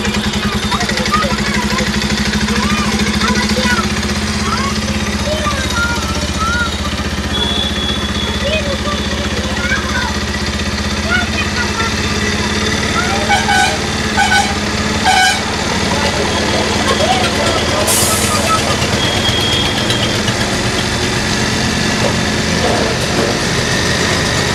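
A Bajaj Pulsar 125 BS6 motorcycle engine idling steadily at close range during carburetor air-screw and RPM adjustment, a continuous loud hum with faint clicks, no speech.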